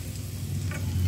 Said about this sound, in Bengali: চলো এইভাবে সব ব্রেডগুলো একে একে ভেজে নেব।